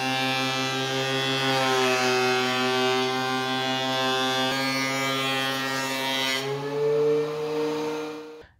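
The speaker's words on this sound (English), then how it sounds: "take my DeWalt planer here and take everything down to 3/4 of an inch thick" A DeWalt power planer runs wood boards down to three-quarter-inch thickness, making a loud, sustained motor drone whose pitch dips and shifts as boards feed through, then cuts off abruptly at the end.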